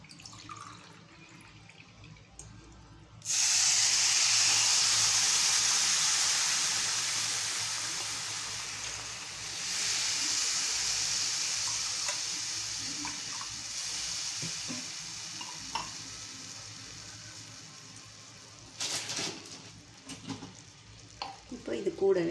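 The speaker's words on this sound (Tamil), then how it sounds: "இப்போது ரெண்டு டம்ளர் தண்ணி சேர்க்க போகிறேன்." Water poured into roasting semolina for kesari sets off a loud, sudden sizzle that hisses on and slowly fades, with stirring continuing afterward and a second surge of sizzling later.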